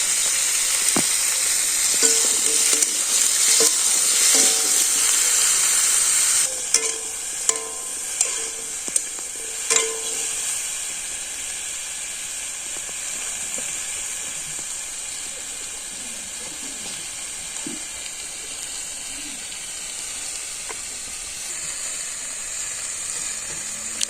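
Sour vegetable curry of sweet potato, tomato, eggplant and mango sizzles loudly in a pan with turmeric, chili and coriander powder and salt, a steady hiss broken early on by several clanks of stirring.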